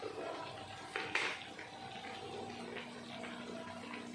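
Water is poured into a pan of fried garlic, a splashing, hissing gush at first that settles into a softer steady bubbling sizzle in a quiet kitchen.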